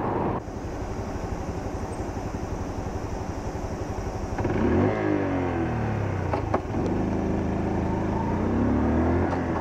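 A Honda Super Cub C125 motorcycle rides along in fourth gear with a steady, close engine drone and wind rush, and the engine note rises midway without anyone talking.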